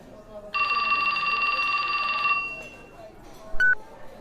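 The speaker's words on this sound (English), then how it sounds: "His phone rang." A telephone rings with a steady electronic trill for about two seconds in the Japanese adventure game 428: Shibuya Scramble, then stops, followed by a brief short beep; fairly loud and close.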